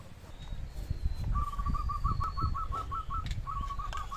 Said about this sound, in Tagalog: Ah yung mga ibon naririnig mo talaga